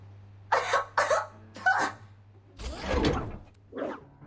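Nora, a robotic refrigerator from Atomic Heart, coughing in a series of harsh, raspy bursts: three short coughs, then a longer rough one and a final brief hack, close and loud over a low mechanical hum.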